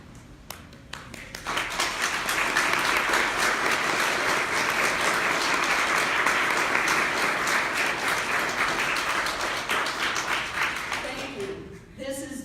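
An audience applauds at the 2019 Southeast Michigan Social Work Student of the Year awards ceremony, a full, sustained round of clapping for about ten seconds that fades at the end, with a voice briefly heard before and after.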